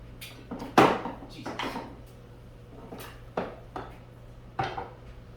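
Small cast iron pan being handled, scattered metallic clanks and knocks, one sharp clatter followed by softer bumps and scrapes at irregular intervals, close and alone.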